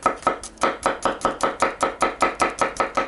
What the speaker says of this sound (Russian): И чеснок тоже просто мелко рубим так.